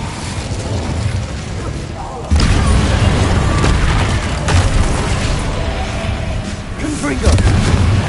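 Spell explosions in Hogwarts Legacy: a dense run of loud booming blasts and rumbling impacts that jump sharply in force partway through, with shouted voices mixed in.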